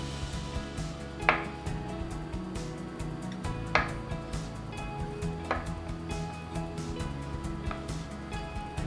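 Knife cutting through avocado for vegan tacos, with a few distinct crisp chops spaced a couple of seconds apart over a steady kitchen background, close and moderately loud.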